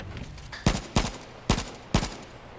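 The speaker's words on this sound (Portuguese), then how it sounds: "O cara tá atirando no espaço, mano." Four sharp gunshots ring out in the H1Z1 battle-royale game, evenly spaced about half a second apart, loud and close over a faint background hum, with no talking.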